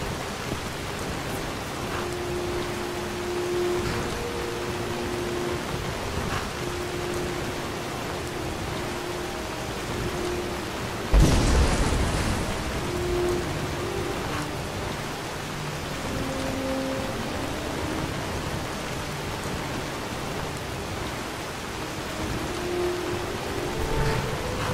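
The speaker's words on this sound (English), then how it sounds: "That rain's pretty loud." Steady, heavy rain hisses continuously and loudly throughout, with a single sharper thump partway through and no talking.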